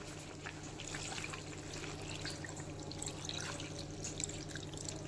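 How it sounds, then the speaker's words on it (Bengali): Water poured into a pot of meat curry cooking with purple cauliflower, giving a faint steady trickle and splashing with small drips over a low background hum, continuous and fairly distant. "এবারে একটুখানি জল অ্যাড করব।"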